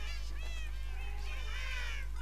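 Minecraft cats meowing in a short run of high, wavering mews against a steady low game hum, with faint speech-like sound mixed in.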